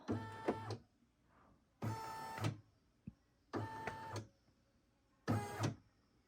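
An embroidery machine running a trace of the design on a denim jacket, with four short bursts of buzzing, whirring motor movement separated by brief pauses and a faint click in between.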